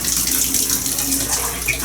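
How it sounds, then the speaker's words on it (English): A hotel shower head sprays hot water in a loud, steady hiss that fills the room without a break. "Let's go ahead and check the pressure real quick. Seems pretty good. Oh yeah, very nice shower head."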